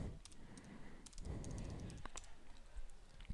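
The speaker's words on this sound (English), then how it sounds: "I type in my password" Rapid keystrokes on a computer keyboard as a password is typed, a close run of light clicks and taps in quick uneven bursts with no voices.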